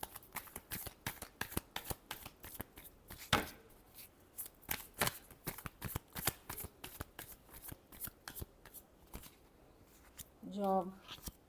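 Tarot cards being shuffled up close in quick, repeated riffling bursts that rustle and snap steadily, with a brief voice near the end.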